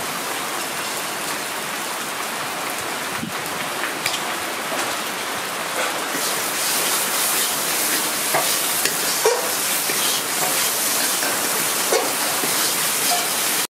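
Spices with turmeric and salt fry in a pan for a pointed gourd and yogurt kosha, making a steady, rain-like crackle that grows louder halfway through, with occasional stirring scrapes.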